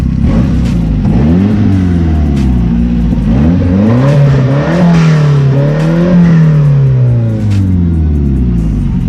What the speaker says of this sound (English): It's just open pipe from the downpipe. So I'll rev her up a little bit for you.